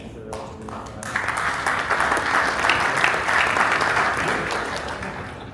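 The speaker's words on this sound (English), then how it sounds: "Yes, I got the cheer." Applause and cheering break out from an audience at the close of a panel on automaker and recycler supply-chain circularity, with a few early claps swelling into sustained clapping that carries to the end.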